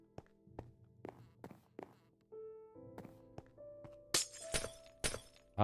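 Glass blocks breaking in the video game Minecraft, heard as sharp, crisp shattering hits interleaved with dull thunks and footsteps, growing brighter and louder toward the end, with no talk.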